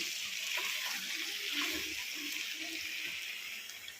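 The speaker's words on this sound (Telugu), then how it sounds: "ఇది కొంచెం వేగినాక వాటర్ వేస్తున్నా" Water pours steadily into a pan of frying chicken curry, a continuous hissing gush with no voices, tapering slightly toward the end.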